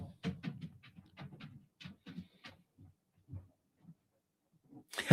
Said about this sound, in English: Our dog sounds like your dog.